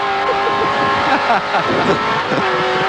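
Touring cars racing at Symmons Plains in 1986, turbocharged cars and Commodores, roaring close by with rising and falling engine notes as they pass in a loud, busy stream, with some faint speech under it.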